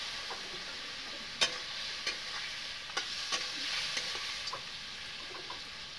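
Country chicken with masala frying in a pan just after a splash of water, a steady bright sizzle broken by several sharp scraping stirs of a spoon against the pan, close and continuous with no talking.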